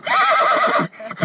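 A ranch horse resting after a morning ride gives a loud, close whinny with a wavering, shaky tone lasting nearly a second, followed by a short softer snort.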